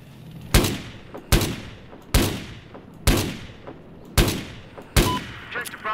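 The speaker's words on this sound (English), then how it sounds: "Enemy machine gun." An enemy machine gun fires in Battlefield 4, with six loud, sharp bursts spaced roughly a second apart, each cracking close and decaying into a ringing echo.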